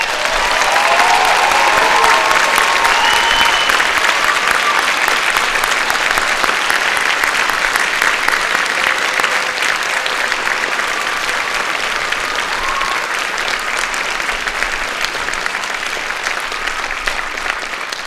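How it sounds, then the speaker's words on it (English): A large crowd at a medical school commencement applauds the graduating class with sustained, loud, dense clapping that holds steady throughout. "let's have a round of applause for the whole class."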